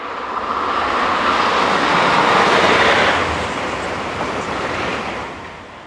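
Talgo passenger train hauled by locomotive 252066 approaching, a steady broad rumble and rush that swells and holds for several seconds, with no voices.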